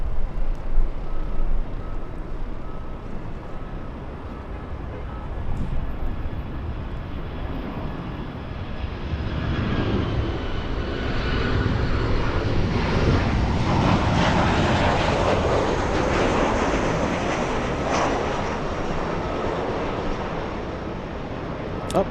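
A Lufthansa airliner departing Los Angeles International Airport for Frankfurt, its engines producing a steady, broad roar that swells and holds for over twenty seconds, heard from a distance outdoors.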